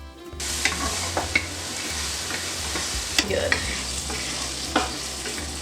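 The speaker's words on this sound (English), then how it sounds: "put it in your sauté pan, and you should hear that nice sizzle" Pancetta sizzles steadily in a hot sauté pan, a continuous crackling hiss with occasional sharper pops, and a brief spoken word partway through.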